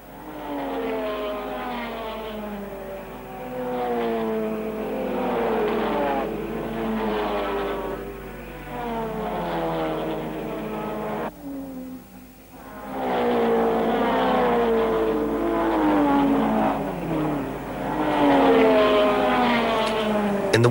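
1100cc sports cars racing at a 1953 meeting, their engines rising and falling in repeated revving sweeps as they pass, loud and continuous for most of the run with a brief lull midway.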